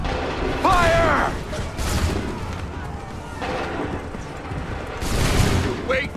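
Musket volleys crack out in the Assassin's Creed III video game, several sharp, booming bursts spread a second or two apart, with soldiers shouting orders between them.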